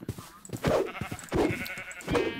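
Sheep bleating in a survival video game set in a desert, with several short wavering bleats repeating at roughly even intervals from nearby animals in a flock.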